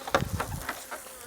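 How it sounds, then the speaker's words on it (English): A honey bee carrying pollen pellets buzzes at a hive, a brief, close, wavering drone with a few rising and fading pulses over about a second. "Here is a bee that is carrying some pollen pellets"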